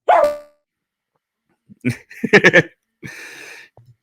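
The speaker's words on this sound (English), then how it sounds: "my dog started barking" A dog barks once loudly at the start, followed after a pause by a burst of close voice-like barking and yelping with a short noisy rustle near the end.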